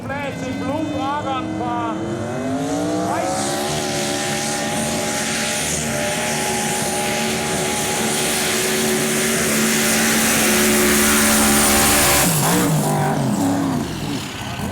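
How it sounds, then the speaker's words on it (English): A turbocharged V8 pulling tractor roars at a European tractor pulling championship in Brande, Denmark, a loud sustained engine howl that rises in pitch and holds for most of the pull before dropping away near the end, with commentary running over it. "This is a turbocharged V8 machine."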